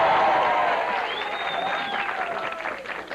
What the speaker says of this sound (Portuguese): eles vão aplaudir